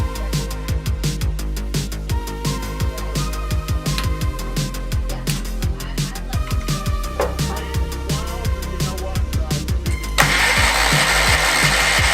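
An International Cub Cadet 782 lawn tractor engine runs close by with a steady, rapid chugging pulse and a low drone, then a burst of hiss near the end as it keeps running.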